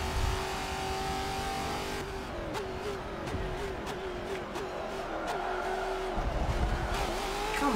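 Race car engine in a racing video game, a steady revving whine that climbs and drops with gear changes, with brief tire squeals and a few sharp clicks, moderately loud.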